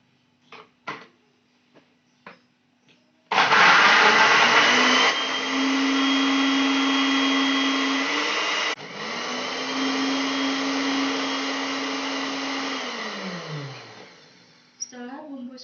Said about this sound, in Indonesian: Setelah itu kita bisa blender hingga halus.